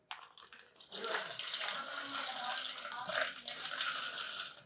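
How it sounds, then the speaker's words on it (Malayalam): Water poured into a smoothie mixture, heard as a few light taps and then a continuous close, splashy pour for several seconds. "ചെറുതായിട്ട് ഞാൻ വെള്ളം ഒഴിച്ചു കേട്ടോ"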